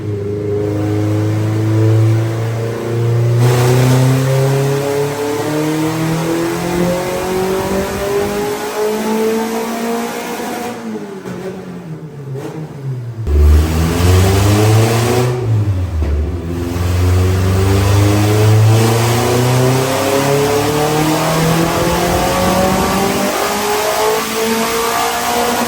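A car with a K24 engine strapped to a dyno revs hard and climbs through the gears, loud and close, with rising harmonic sweeps, brief drops between pulls and sustained high-rpm roaring, no voices.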